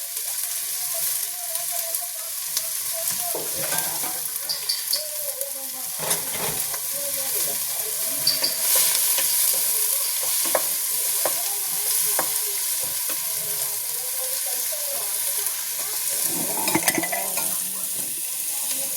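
Onions and curry leaves sizzling and frying in a pan for crab curry, a steady close hiss with occasional stirring and utensil scrapes against the pan.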